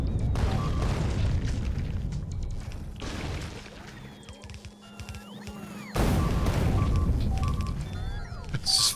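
Explosions in the video game Factorio, a string of booming blasts and crashes against a busy game soundscape, with a brief quieter lull before the loud din returns.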